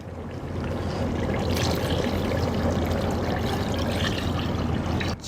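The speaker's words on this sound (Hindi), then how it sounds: "छः गिलास तकरीबन पानी डाल दिया मैंने" Water is poured steadily into browned beef in a cooking pot for Delhi-style nihari, a continuous loud close rushing pour that holds evenly for several seconds before cutting off abruptly.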